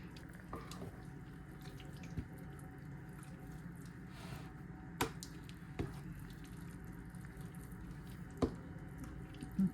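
Wet fishcake batter with flour gets stirred and mixed, making soft, faint squishing and sloshing sounds over a low, quiet background, with a few sharper knocks scattered through.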